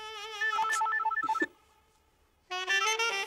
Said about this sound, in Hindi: बचने दो ना, इंपॉर्टेंट कॉल हो सकता है जान,